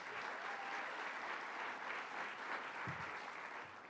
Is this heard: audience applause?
yes